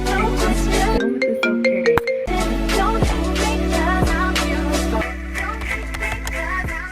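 A loud, bright electronic ringtone plays a repeating melodic pattern, with a brief drop in the backing partway through, sounding close and continuous.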